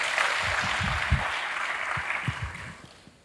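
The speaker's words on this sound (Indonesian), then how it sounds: "Berikan tepuk tangan bagi Tuhan." Church congregation applauding during a sermon, a broad sustained wash of clapping from many hands that gradually fades, with low voices underneath.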